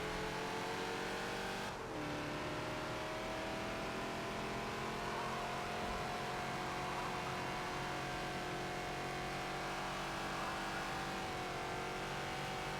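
Ford Falcon XB revving on the Watkins Glen circuit in Forza: a steady, loud engine tone climbing in pitch as it winds out, with a short dip where a gear changes.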